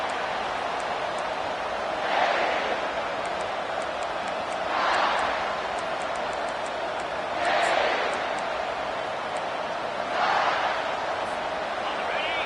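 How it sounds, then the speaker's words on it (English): A football stadium crowd roars in loud, broad waves that swell and fall back roughly every two to three seconds over a constant dense din of voices. "This crowd, full throat, splitting the eardrums"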